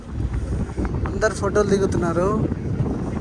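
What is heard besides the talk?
strong wind blowing on microphone atop Eiffel Tower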